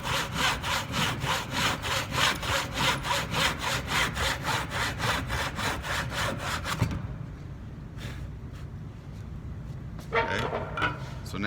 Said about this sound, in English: Cut straight up and down, and as you get closer to the other edge, slow down